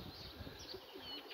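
Homing pigeons cooing softly with brief wing flutters and faint chirps, a busy flock of about fifty arriving close by after a training flight, with no talking.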